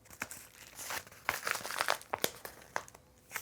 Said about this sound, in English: Put that into your envelope.